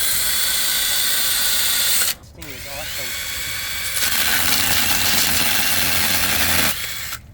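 A cordless 6-inch mini chainsaw whines loudly and steadily as it cuts through wood, pausing briefly, while someone talks over the noise.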